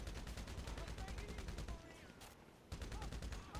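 Rapid bursts of automatic gunfire in the video game GTA Online, dense and continuous with a short pause before firing resumes, faint overall.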